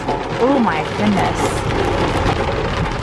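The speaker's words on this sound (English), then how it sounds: "Oh my God, and this rain." Heavy rain drums steadily on the roof and body of a new car, a dense, close hiss filling the interior, while a person briefly exclaims over it.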